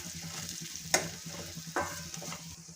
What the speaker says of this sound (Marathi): हे सर्व मसाले तेलामध्ये छान परतवून घ्यायचे आहेत आपल्याला।